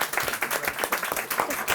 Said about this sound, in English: We should give a round of applause.